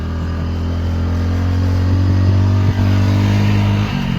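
A motorcycle labours up a steep mountain road toward Baba Balak Nath, its engine droning loud and close in a steady hum, with brief shifts in pitch as it pulls.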